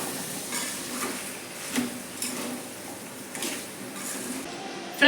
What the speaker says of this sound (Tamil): இப்போ கொத்தமல்லியை போட்டுக்கலாம் ஃப்ரெண்ட்ஸ். போட்டு நல்லா மிக்ஸ் பண்ணலாம்.